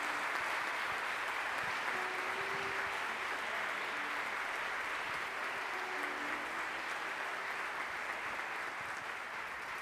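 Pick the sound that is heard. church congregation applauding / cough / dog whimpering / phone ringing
church congregation applauding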